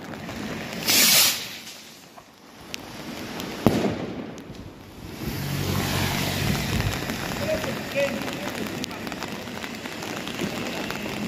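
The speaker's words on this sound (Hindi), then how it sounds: "बारिश बहुत तेज शुरू हो गई है।" Heavy rain pours steadily outdoors during a New Year's night, a dense hiss with a burst of firework crackle and bangs early on, and a voice talking over it.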